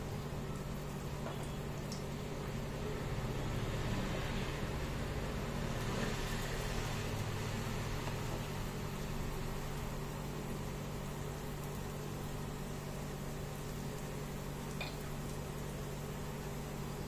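Malabar spinach fritters fry in mustard oil in a pan over low flame, giving a steady, even sizzling hiss with a low background hum throughout.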